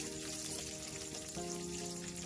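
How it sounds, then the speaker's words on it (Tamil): Garlic sautés in hot oil for a Tamil fenugreek curry, giving a steady, close, crackling sizzle that runs throughout over a faint tonal hum. "எண்ணெயில் நல்லா வதக்கி எடுத்துக்கலாம்."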